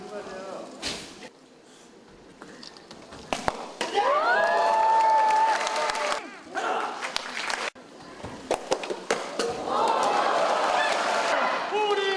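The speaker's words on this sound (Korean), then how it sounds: "우리는 하나다라는 그 관중들의 구호 소리가 인상적인데요" A stadium crowd at a world taekwondo championship in Muju chants slogans in unison, loud and sustained in repeated swells, with a broadcast voice speaking over parts of it.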